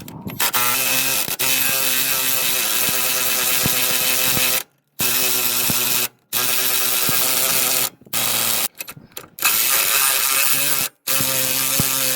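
A hand ratchet undoing the bottom nut of an anti-roll bar link on a Honda Jazz, clicking rapidly and loudly in bursts broken by short pauses as the handle is reset.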